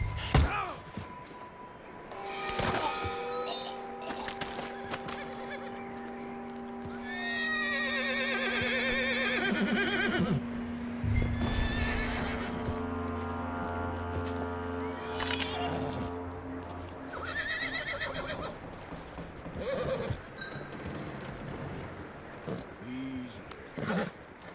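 A horse in the video game Red Dead Redemption 2 lets out several loud whinnies, with a few thuds and hoof clops scattered among them and a voice talking over parts of it.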